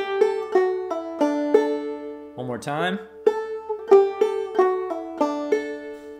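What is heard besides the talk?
clawhammer banjo playing a measure of Logan County Blues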